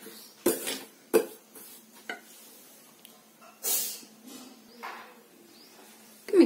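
A spoon stirs rava dosa batter in a bowl, giving intermittent clinks and scrapes against the bowl's side with soft wet swishes between them, close and sparse, with no voices.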